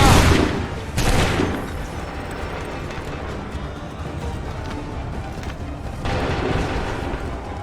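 A crackling musket volley fired in the video game Assassin's Creed 3 booms loudly at the start, a second ragged volley follows a moment later, and another rolls out near the end over a rumbling battlefield din.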